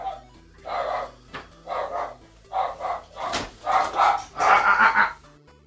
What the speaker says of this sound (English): my dog went fucking mental at the postman there